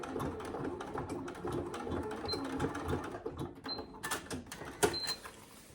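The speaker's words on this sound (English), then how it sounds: "just back stitch at the end" A sewing machine runs quietly in short bursts of rapid stitching, back stitching at the end of a seam for a wash bag, with faint clicks and handling noise around it.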